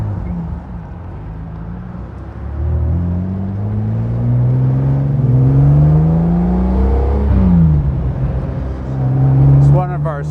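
1953 Jaguar XK-120 SE Roadster engine pulling up through the gears on a country road, rising drones broken by shifts, loud and close, with speech over it.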